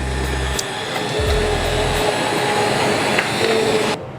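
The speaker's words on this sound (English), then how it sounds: "we're now going to blend it with a hand mixer" A hand mixer blending potato soup on the stove, a loud steady motor whine with a low rumbling start that cuts off abruptly near the end.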